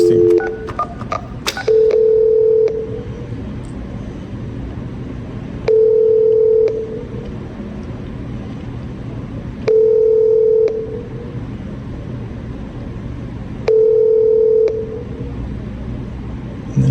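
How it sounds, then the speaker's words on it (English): Four separate bursts of telephone ringback tone sound at regular intervals after a quick flurry of keypad tones, with a faint background hum between rings. "Let's see how we can get this phone call."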